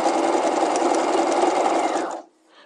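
A sewing machine runs steadily and close up, stitching a dart in a basic dress skirt, with a fast even whir that stops abruptly near the end.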